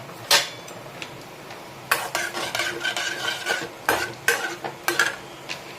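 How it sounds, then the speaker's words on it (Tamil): Cumin seeds splutter in plenty of hot oil for dal khichdi, heard as a close crackle with sharp pops and a spoon scraping and clinking against the pan, with no one talking. "ஜீரகம் நல்லா பொரிஞ்சு வரட்டும்."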